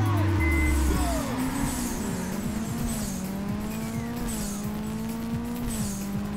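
Race cars crash in Burnout 2: Point of Impact on PS2, with a droning engine, squealing tires and gliding pitch sweeps, plus a few impact thuds early on, loud and continuous.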